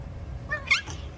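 An eight-year-old award-winning cat gives a short, clear meow, a single rising-and-falling call close to the mic over a faint low background hum.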